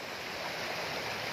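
Hill-country mountain stream water flowing along a forest road, a steady broadband rush without pauses, moderately loud and heard alone.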